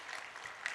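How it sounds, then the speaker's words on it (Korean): A church congregation claps together during a Sunday worship service, a brief dense patter of many hands that stays fairly steady throughout. "박수 한번 해. 박수."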